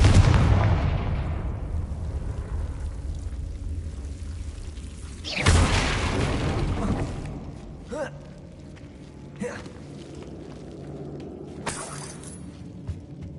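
Bombarda and Confringo spell explosions in the video game Hogwarts Legacy: a deep rumbling blast followed by several sharp booming bursts at uneven intervals, fading into a quieter ambience.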